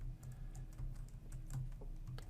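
A password being typed on a computer keyboard: a quick run of soft, close key clicks with brief pauses, quiet overall against a low steady hum.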